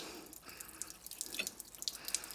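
Water dripping and trickling from the water jacket of a fire-damaged Massey Ferguson 135 tractor, scattered close splashes and drips over a soft wet hiss.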